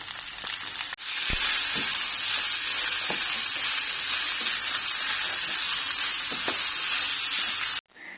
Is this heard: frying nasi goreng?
yes